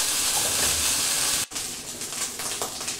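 A steady sizzling hiss of basmati rice frying in a pan with coconut, chilli and onion, continuous and fairly soft, broken by a brief clatter midway.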